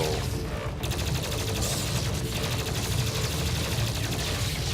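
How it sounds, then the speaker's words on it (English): Plasma rifle firing continuously in DOOM Eternal, a dense, rapid stream of buzzing energy shots held at steady loudness for several seconds over thick combat noise. "Plasma rifle. Just killing everything like it's nothing."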